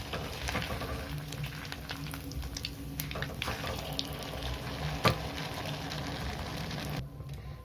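Malpua frying in oil in a kadai after being flipped, a steady close sizzle running throughout with small clinks and stirring sounds, and no voices.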